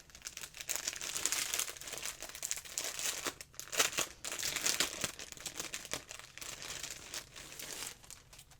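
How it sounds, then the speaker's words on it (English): A plastic bag crinkles and rustles close by as fabric for a cross-stitch project is pulled out of it, giving irregular soft crackling bursts that go on for several seconds, quiet overall. "There's more crinkling in here, so I'm gonna take this fabric out of the bag here."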